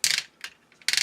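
Ratchet joint on an Elita 1 toy figure clicking through its soft detents: three bursts of rapid plastic clicks, one near the start, a brief one in the middle and another at the end, close and crisp.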